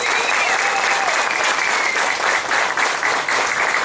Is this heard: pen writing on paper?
no